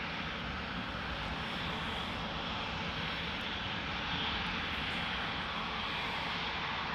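KLM Embraer E2 jet taking off at Amsterdam Schiphol for Prague, a steady broadband engine roar held at constant level throughout, fairly distant and unbroken, with no voices.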